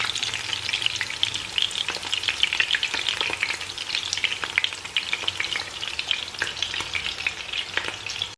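Meatballs fry in a pan after being turned, giving a steady, close and fairly loud crackling sizzle with dense spitting pops and no voices.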